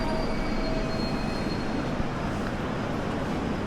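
A train in Russia, decorated for New Year's, gives a steady, loud rumble of rolling rail noise that fills the whole stretch with no talk.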